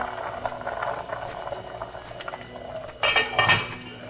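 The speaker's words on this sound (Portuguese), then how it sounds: "Agora nós vamos abaixar o fogo e deixar ele cozinhando em fogo baixo." A pot of rice simmers on low heat on a stove, bubbling gently and continuously while utensils and cookware clink nearby, with a louder clatter of dishes toward the end.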